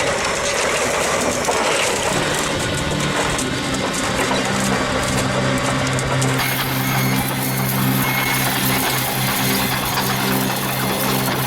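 A powerful engine on a specialized sand machine for construction runs steadily, giving a loud, continuous drone with low humming tones and a busy mechanical clatter layered over it, with no voices.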